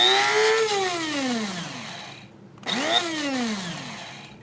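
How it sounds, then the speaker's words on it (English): DeLonghi electric grinder whirring through coriander seeds, a loud close motor whine that sweeps down in pitch as the seeds break up, cuts out briefly, then spins up again for a second burst. "we're gonna put it in the grinder, and this is the DeLonghi"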